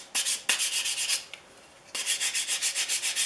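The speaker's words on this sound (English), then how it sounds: "I start with 150 grit paper on this, and then I move on to the foam sanding block." A wooden hand plane tote is hand sanded with 150 grit paper along the grain, fast rhythmic scratchy strokes, close and steady, broken by one brief pause.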